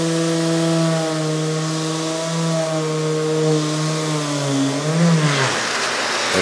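A power sander works a countertop during a makeover, a loud steady motor whine with strong harmonic tones that holds level, then sags and drops away near the end as the tool slows and cuts out.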